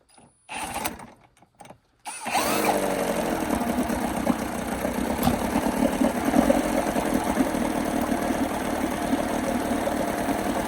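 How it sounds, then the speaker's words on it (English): Small motor from a garden setup with a water pump, idling slowly and steadily with a low, even knocking chug that runs near and alone for about eight seconds after a brief burst of handling noise. "I guess she's idling a little bit too slow."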